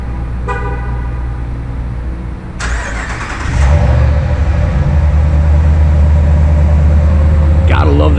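A Ram pickup truck engine, just after a fuel sensor replacement, turns over and starts, then settles into a steady, loud idle with deep low rumble, following a brief horn-like toot near the start.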